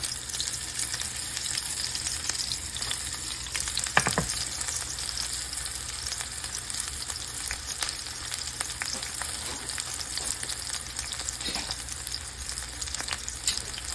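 Onions fry in hot oil in a home kitchen, giving a soft continuous sizzle with a few sharper crackles and brief stirring clicks, fairly quiet and steady with no talking.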